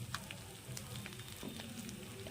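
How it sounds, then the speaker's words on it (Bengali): Two eggs being scrambled and fried among vegetables in a pan for egg chowmein give a faint, steady sizzle with scattered soft crackles throughout, and no voices. "এর মধ্যে আমি এখানে 2টো ডিম দিয়ে ঝুড়ো ঝুড়ো করে ভেজে নিচ্ছি।"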